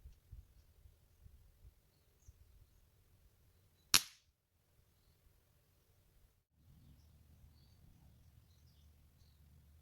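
A single sharp crack of a sub-500 fps airgun firing a pellet stands out against quiet, faint background noise; no one speaks.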